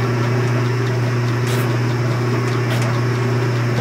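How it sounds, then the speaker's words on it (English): A belt-driven shop machine's motor runs steadily, giving a loud, constant electric hum with an even mechanical drone and faint ticking throughout. "You can turn the motor on."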